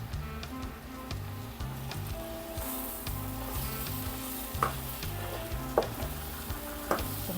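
A North Indian curry of fenugreek leaves and potato sizzles steadily in a pan while it is stirred, with scattered scraping taps of the spoon over the constant frying hiss.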